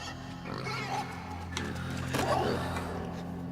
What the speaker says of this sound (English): Poor pig, man.